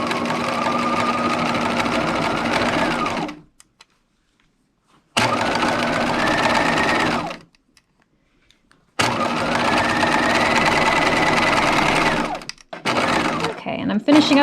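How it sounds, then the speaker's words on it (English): A sewing machine runs a quarter-inch seam at regular stitch length on a slip, sounding in three steady bursts separated by short silent pauses, close and clear. "we are going to sew this seam again at 1/4 inch. And use your regular stitch length"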